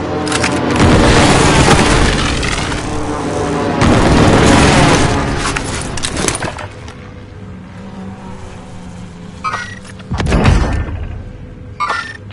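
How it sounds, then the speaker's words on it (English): Airstrike explosions and gunfire in a war video game: loud booming blasts and crackling fire dominate for about six seconds, then a quieter hum with a couple of sharp later impacts. "Allies using airstrike incoming."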